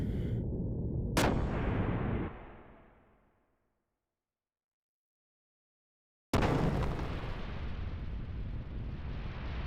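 A ship's cannon fires in the Xenogears video game: a sharp loud blast followed by a rumbling roar that fades into silence, then another sudden booming blast that carries on as a sustained roar.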